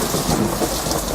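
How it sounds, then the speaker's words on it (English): Heavy rain pours down outside a shed, a loud, dense, steady roar of water striking surfaces close by, with no voices over it. "Oh, it's raining. Man, it's really bucketing down."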